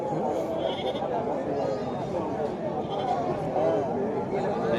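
A young goat bleats repeatedly amid a busy livestock market, its wavering cries half-buried in loud crowd chatter and several people talking nearby.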